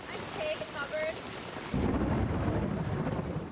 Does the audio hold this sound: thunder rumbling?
yes